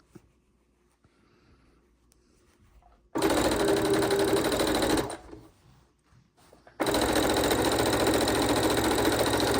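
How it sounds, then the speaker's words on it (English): A sewing machine stitches quilt scraps in two loud sustained runs, separated by a short pause, after a quiet stretch of faint handling at the start. "We're going to sew a few more together"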